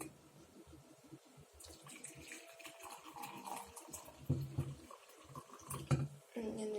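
Tea pouring from a 950 ml Fissman glass teapot with a built-in filter into a cup, a soft, steady liquid trickle that builds toward the end, heard close and quiet without talk.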